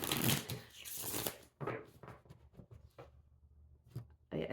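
Witch's Tarot cards shuffled by hand nearby, a few quick riffling bursts of papery flutter separated by short pauses, fairly quiet.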